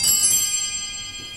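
Bells on an 1887 B. Shoninger reed organ ring out with a bright, shimmering metallic tone, opening loud and then fading steadily over a brief moment.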